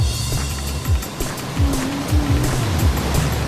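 Rushing flood water pours through an artificial whitewater river in Nottingham, England, at around 25,000 litres per second, a dense, steady roar with surging swells and low rumbling churn throughout.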